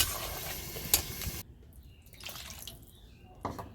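Broth is poured into a cooking vegetable curry with a loud, close splashing pour. It breaks off into quieter drips and trickles.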